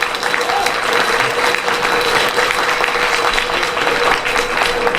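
A large indoor audience applauds at an inauguration ceremony and spring banquet of the Hong Kong record merchants' association, producing dense, sustained clapping at a steady level for several seconds.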